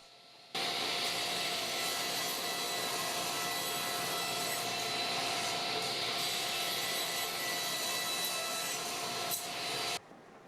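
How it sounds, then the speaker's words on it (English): A planer flattens the top of a wooden cutting board, a loud, steady high-pitched machine whine that runs unbroken for about nine and a half seconds, starting and stopping abruptly. "Next, run it through the planer. This will make the top part completely flat."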